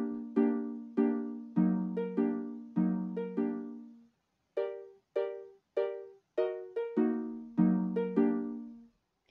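Minecraft note blocks playing the Imperial March from Star Wars: bright plucked tones in the march's insistent repeated rhythm, each note decaying quickly, with a short pause midway before the phrase continues.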